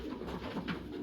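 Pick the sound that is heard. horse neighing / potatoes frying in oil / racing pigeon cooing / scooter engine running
racing pigeon cooing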